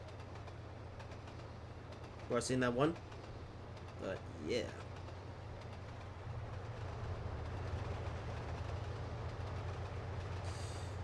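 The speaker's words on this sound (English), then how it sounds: "Another freight train!" A freight train in Trainz Simulator 2 rumbles past as a steady low roar that builds and holds, with someone speaking briefly over it early on.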